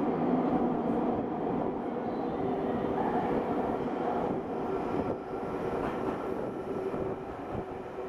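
A Nagoya Sakura-dori subway line 6000 series train arrives at Sakurayama station with a continuous loud rumbling roar of wheels and motors, gradually easing near the end, with no voices.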